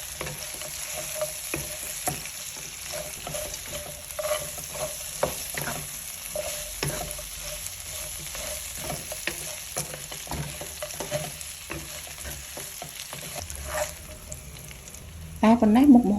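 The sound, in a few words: chicken stir-frying with lemongrass, kaffir lime leaves and galangal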